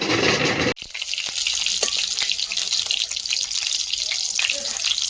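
Potato chops sizzle steadily in hot oil in a pan, with a sharp clatter near the start and scattered scraping and clinking as the pieces are turned, frying continuing underneath throughout.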